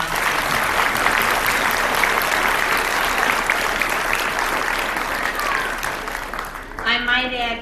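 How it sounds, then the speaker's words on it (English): Audience applauding a retired World War II Army nurse at a veterans' honoring event, steady broadband clapping for about seven seconds before fading as a voice begins speaking at the end. "Let's give her a round of applause."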